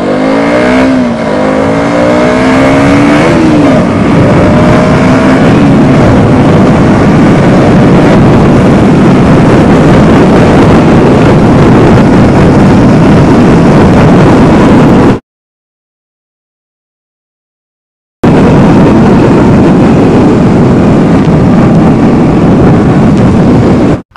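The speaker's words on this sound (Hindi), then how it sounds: "अभी मैं करने वाला सेकंड टेस्ट 0 से लेकर 75 किलोमीटर पर आवर कितने सेकंड्स में आती है मेरी केटीएम ड्यूक 125" A KTM Duke 125 motorcycle pulls away hard and accelerates from standstill toward 75 km/h, its engine note loud and close with rising revs and gear changes, then cuts out briefly before continuing with steady wind-blasted engine roar.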